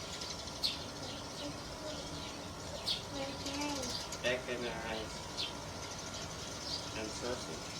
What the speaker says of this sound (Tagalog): Wow, ang daming mga ibon dito.